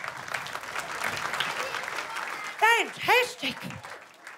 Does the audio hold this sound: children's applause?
yes